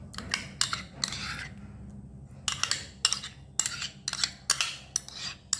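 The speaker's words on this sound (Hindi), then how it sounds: "ये दही डाल दिया हमने।" Spoon adding curd to marinating chicken for Kolkata biryani, a series of sharp metallic clinks and scrapes against the bowl in irregular clusters with short gaps, close and fairly quiet, no talking.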